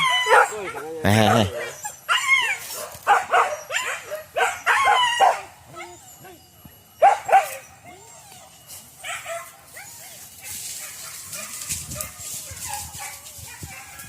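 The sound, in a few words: hunting dogs barking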